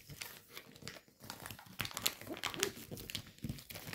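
Paper is folded and creased into an origami fighter jet, giving soft, close crinkling and rustling with a few sharper crisp snaps, quiet and uneven over a few seconds.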